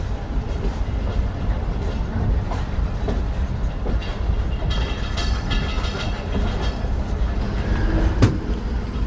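Rumble and rhythmic clatter of the Pak Business Express passenger train on the Karachi to Lahore line, heard from inside a coach as a steady, loud roll with occasional sharp clanks.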